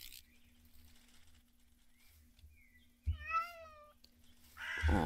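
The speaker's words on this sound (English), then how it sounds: "Aw, kitty cat." A cat meows in the Minecraft video game, one clear wavering meow midway through, close and moderately loud over a quiet background hum, with a brief louder burst at the end.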